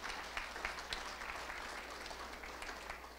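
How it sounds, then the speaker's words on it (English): A crowd applauds at a Shark Tank–style entrepreneur pitch night, steady dense clapping with a few sharper claps rising out of it, heard from within the room at moderate volume. "let's give another round of applause for these incredible businesses that pitch with us today"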